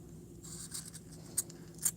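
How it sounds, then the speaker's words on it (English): A couple of quick, crisp scissor snips trimming yarn edges stand out over a quiet, faintly humming background, with soft rustling between the cuts. "get my bigger scissors and give it a haircut"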